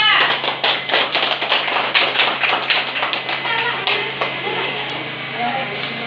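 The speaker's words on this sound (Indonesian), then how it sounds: "beri aplaus untuk kelompok 2" Classroom applause for a student group: a burst of close, lively clapping from children that fades toward the end, with voices underneath.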